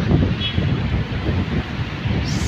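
Steady wind rushing and buffeting across the microphone by Inya Lake in Yangon, Myanmar, a continuous low roar with gusty swells throughout.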